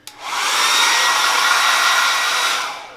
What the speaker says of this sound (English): I'm just going to dry it with the hairdryer.